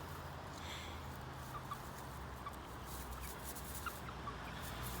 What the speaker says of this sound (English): There you go, there's the mother hen.